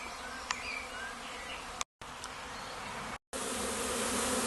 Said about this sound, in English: It doesn't look a very big swarm, this doesn't